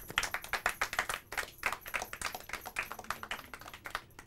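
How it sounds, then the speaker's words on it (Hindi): Applause for teams at a school quiz contest, a sparse, fairly quiet patter of individual claps in a rhythmic series from a small audience. "तालियां।"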